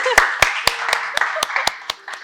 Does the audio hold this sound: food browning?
no